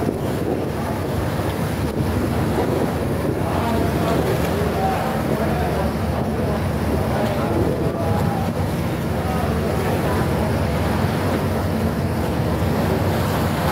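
Sea water churning and splashing around a tourist ferry boat cruising Victoria Harbour near Kowloon, Hong Kong, a constant broadband rush mixed with wind buffeting the microphone, with a voice speaking over it.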